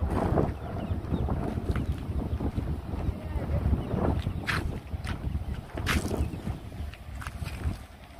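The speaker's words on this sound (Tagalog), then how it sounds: "Mahangin dito sa taas." Steady wind high up on an elevated spot rushes and buffets the microphone throughout, a continuous low roar with gusts, and faint voices speak underneath.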